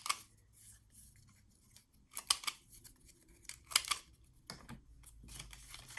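Scissors cut paper for a 6x6 Christmas mini album. Several separate crisp snips and slicing strokes come close up against a quiet room, with soft handling rustles in between and no talking.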